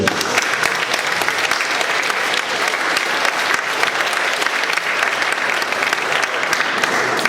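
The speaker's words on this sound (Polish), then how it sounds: "Także również wielkie brawa." Loud, dense applause fills a school Valentine's Day event, a large audience clapping continuously and evenly for several seconds with no pause.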